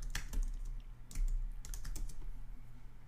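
Typing on a computer keyboard produces a quick, irregular run of close key clicks and taps, fairly faint over a low background hum, with no speech.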